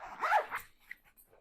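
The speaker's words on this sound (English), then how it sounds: "And then I zip up the bag." A zipper is pulled shut on a packed travel bag in one quick, close, rasping run that trails off into a few small clicks and taps.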